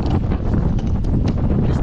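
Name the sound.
wind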